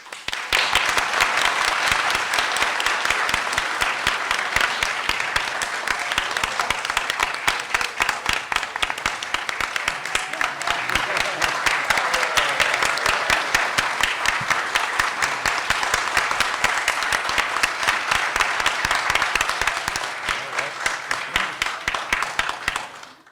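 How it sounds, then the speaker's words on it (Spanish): A large audience at an academic tribute ceremony breaks into sustained, dense applause that stays loud and steady for over twenty seconds before thinning out at the end. "Les pido entonces un fuerte aplauso."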